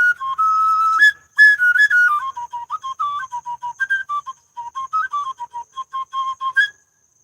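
A flute plays a clear, bright melody alone, with long held opening notes followed by a lilting run of short, separated tones rising and falling in a steady rhythm.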